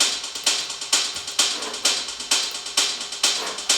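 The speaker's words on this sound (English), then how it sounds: "I've got a straight hi-hat and then I've got 16ths. So together they sound like this." Two layered electronic hi-hats, one a sample playing straight and one a recorded sixteenth-note pattern from a drum machine, tick in a steady bright loop with a stronger accent on each beat, with no other instruments or voices.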